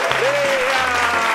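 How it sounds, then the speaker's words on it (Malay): Applause closes a Malaysian parody news bulletin, a broad wash of clapping heard alongside a tonal gliding sound and low hum. "Tepuk tangan"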